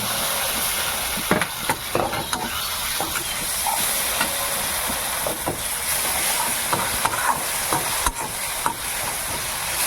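Ground coriander-cumin paste sizzles and hisses in a hot pan for a rohu fish curry with okra, a steady close frying crackle with occasional sharp clicks of stirring.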